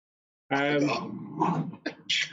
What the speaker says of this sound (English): my dogs are joining in